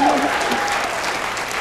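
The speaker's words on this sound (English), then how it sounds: "Just a round of applause for that," A crowd claps at an awards night, a steady, fairly loud burst of applause with a faint voice briefly audible at the start.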